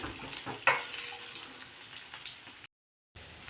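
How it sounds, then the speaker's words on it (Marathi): Small potatoes frying in oil in a pan for Indian dum aloo, giving a soft steady sizzle with faint stirring scrapes and one brief louder clatter, heard alone at moderate distance. "एक 2-3 मिनिटं तरी हे आपण आलू जे आहेत ते तळून घेऊ।"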